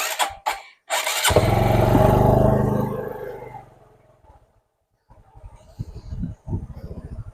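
A motorcycle engine starts with a few sputters, then roars loudly for a couple of seconds, fades out, and picks back up as a rough idle.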